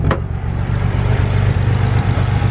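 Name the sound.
Nissan 300ZX twin turbo engine idling roughly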